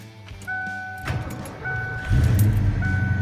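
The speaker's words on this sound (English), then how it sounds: "I'll give you a full walk around of the truck with the engine on so you can hear the exhaust." A 1988 Ford F-150 pickup's engine comes to life about a second in and settles into a rumbling exhaust that grows louder and fuller, with a thin electronic chime tone sounding intermittently.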